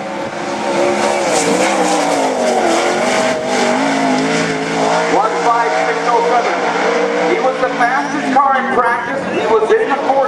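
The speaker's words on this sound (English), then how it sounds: "Josh DeWitt in the number 5 car." Wingless sprint cars roaring around Grays Harbor Raceway during qualifying, a loud revving engine note rising and falling through the turns, under continuous commentary from an announcer.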